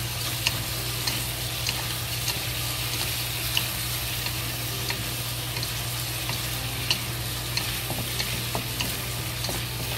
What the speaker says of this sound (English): Just slowly fry until the chicken fat and go to the oil.